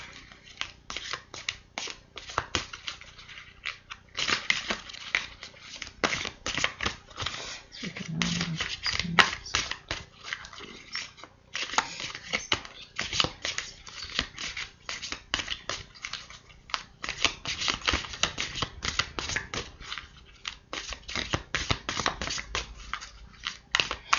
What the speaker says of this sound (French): je batte les cartes en direct